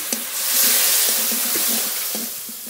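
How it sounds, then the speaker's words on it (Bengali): Spices cooked down with a splash of water in a pan for a fish and taro curry, making a loud bubbling hiss with a soft, regular tapping of the spoon underneath. "এবার একটু জল দিয়ে মশলা খুব ভালো করে কষিয়ে নেব"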